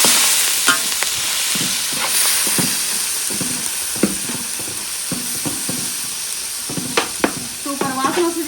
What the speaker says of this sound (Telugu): ఇది వేసేసుకొని మనం ఈ కలుపుకుంటున్నప్పుడే ఈ ఉల్లిపాయ టమాటాలు కూడా ఇందులో వేసేసుకోవాలి